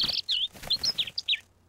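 A cartoon bird chirps in a quick series of about eight bright, high tweets in an animated series, close and clear with brief gaps between them and no talk.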